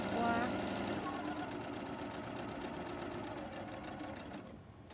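A sewing machine chain piecing a maple leaf quilt block, a quiet continuous mechanical whir that runs steadily before cutting off at the end.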